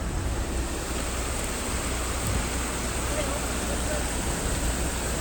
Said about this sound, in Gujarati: ડુંગરમાંથી મસ્ત મજાનું આવતું પાણી અહીંયા આવે છે ધોધમાર વરસાદ સાથે.